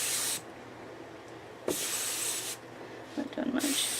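Water is sprayed onto a mixed media artwork from a spray bottle, several sharp hissing bursts close by, separated by quiet gaps, with faint handling noises between them.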